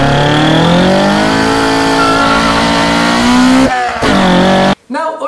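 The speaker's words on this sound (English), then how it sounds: "it is perhaps one of the best sounding 4-cylinders ever made" A Toyota 4AGE four-cylinder engine revs loudly and up close, its raspy tone climbing and holding high, then dropping off briefly before snapping back for another sharp rev.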